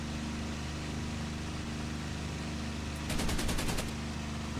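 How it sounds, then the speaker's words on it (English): A P-51D fighter fires a short machine-gun burst in IL-2 1946, a rapid rattling volley lasting under a second over the steady drone of the aircraft engine. "as I can just throttle back, fire a few shots off, and he's still dead ahead"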